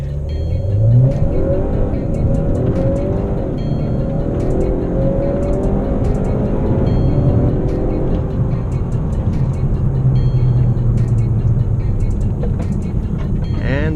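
A 2018 Honda Accord 2.0 fitted with an aftermarket intake accelerating hard from a standstill, loud engine note climbing through the gears with rising pitch sweeps and brief dips at each shift, sustained roar throughout.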